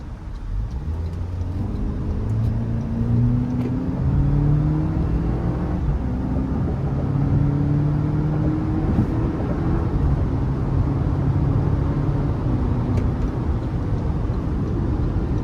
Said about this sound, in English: Now I'm going to put it in a sport mode, and we're going to see how it gets up getting on the interstate.